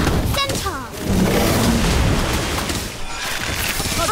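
The Incendio fire spell going off in Harry Potter Magic Awakened, a loud sustained roaring burst with booming rumble and whooshing swirls over busy game effects.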